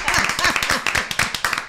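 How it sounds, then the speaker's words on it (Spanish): A studio audience claps, with sharp, fairly close individual hand claps ringing out over voices talking and a rhythmic pattern that grows more distinct toward the end. "vamos a darle el aplauso"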